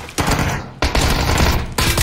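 Tommy gun fire in the PUBG video game, three loud, close bursts of rapid automatic shots separated by short gaps, each sharp onset ringing out over a heavy low rumble.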